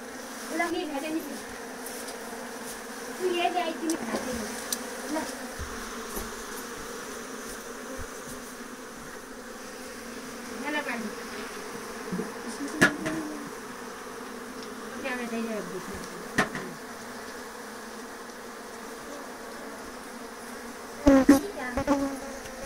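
Honey bees buzz steadily around an open hive during a honey harvest in Uttarakhand, a continuous droning hum with brief louder passes close by and soft background noises, no talking.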